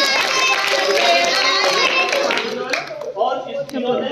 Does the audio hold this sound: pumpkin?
no